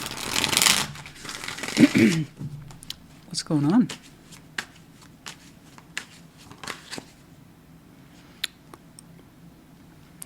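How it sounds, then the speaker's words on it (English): Tarot cards are shuffled close up in quick riffling bursts, then soft card slaps and taps trail off; a person speaks briefly between the bursts. "Let's shuffle up one more time."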